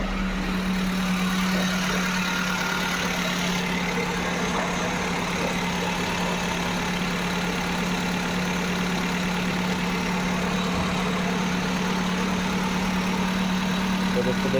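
A Maruti Suzuki WagonR engine idles steadily after starting, a constant close hum with a strong low tone that holds level throughout, no speech over it; the car has an overheating problem.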